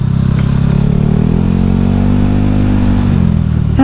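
A modified Honda Scoopy scooter accelerates hard under a rider, its engine note rising steadily and loud throughout with a strong, continuous drone and a brief clatter near the end.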